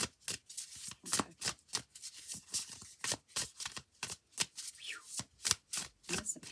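Tarot cards being shuffled by hand, a steady run of crisp riffling flutters and soft slaps repeating in quick rhythm, close and quiet with no voices.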